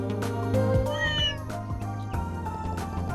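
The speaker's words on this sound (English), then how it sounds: "they type different meows for Antoine" A cat character meows in the video game Trails in the Sky Remake, several short tonal meows over a layered game music backdrop with percussive hits.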